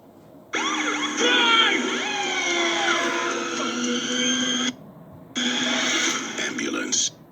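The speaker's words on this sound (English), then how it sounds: "Ambulance." A wailing ambulance siren sweeps up and down steadily, cuts out briefly, then resumes; it sounds somewhat close and fairly loud, with no voices.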